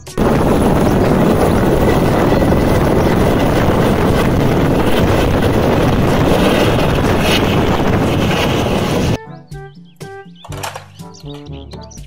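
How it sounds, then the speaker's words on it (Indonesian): A loud, steady helicopter rotor roar with heavy wind-like rumble for about nine seconds, then it cuts off abruptly into quieter, plinking sounds. "Helikopter."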